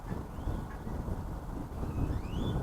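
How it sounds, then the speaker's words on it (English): Steady wind buffets the microphone outdoors at a scrap yard where electric motors are being torn down for copper, a continuous low rumbling roar with faint whistling tones and no talking. "Kind of windy out here today."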